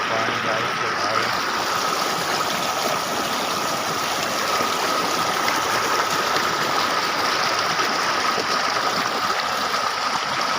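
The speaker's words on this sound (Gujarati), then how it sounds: "સુંદર પાણી જાય છે ભાઈ." A ravine stream near a village, its water flowing in a continuous, even rush that is close and moderately loud throughout, a dense babbling hiss with no pauses.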